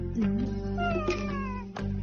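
A cat meows several times in a row, close and clear, with drawn-out rising and falling cries and no talking.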